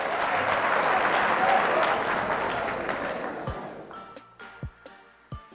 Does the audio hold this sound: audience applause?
yes